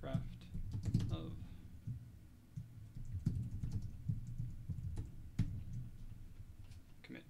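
Typing on a computer keyboard while drafting a GitHub profile README: irregular light key clicks in short bursts, near and fairly quiet, with a few louder taps.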